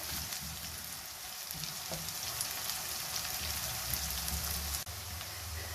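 Sliced onions with bay leaf and whole black peppercorns fry in hot oil for chicken biryani, giving a steady, close, rain-like crackling sizzle throughout with no talking.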